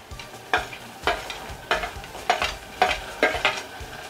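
Tomatoes and potato for moong dal khichdi are stirred in a hot pan, giving a quiet sizzle broken by about eight regular scraping strokes of the spoon, close by and without speech.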